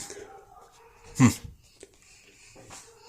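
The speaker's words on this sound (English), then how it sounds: "Dogs be barking." A dog lets out one loud, sharp bark indoors near a wall outlet, standing out from quiet background noise and a few faint thuds.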